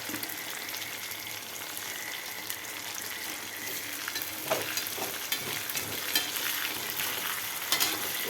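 Oil sizzles steadily in a pan as curry leaves fry, with a constant crackling hiss, punctuated by occasional scraping stirs, close and continuous throughout.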